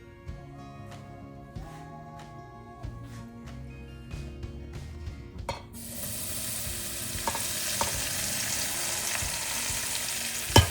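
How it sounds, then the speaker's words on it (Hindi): Boiling hot oil is poured over a pickle mixture. Quiet clinks and tonal kitchen sounds come first, then an abrupt, loud, sustained hiss and sizzle takes over for the rest of the clip, with occasional stirring taps. "ऐसा खौलता हुआ सा तेल डालना है इसके अंदर"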